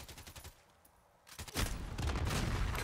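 Gunfire in Call of Duty Modern Warfare multiplayer: a burst of rapid automatic shots, then a brief lull, then louder sustained fire with dense rattling reports, all close and without talk.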